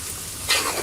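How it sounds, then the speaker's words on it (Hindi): Masala stir-fried in a hot pan for stuffed okra, a brief sizzle that swells into a louder hiss of frying partway through, close and alone. "एक छींटा लगाते जाएं और इसे भूनते जाएं"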